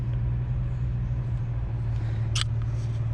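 Subaru Liberty 3.0R Spec B idling, a low steady exhaust drone that stays quiet and even, with a brief faint click partway through.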